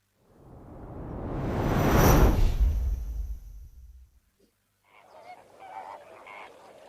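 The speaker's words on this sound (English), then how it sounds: "Goodness me, look how many flamingos there are today." A flock of flamingos calls at Kamfers Dam in Kimberley. A swelling rushing whoosh fades out, then a cluster of nasal, goose-like honks follows at moderate distance.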